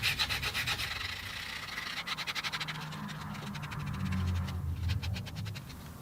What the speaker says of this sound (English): Just going to lightly sand around the edges just to clean the cut edge up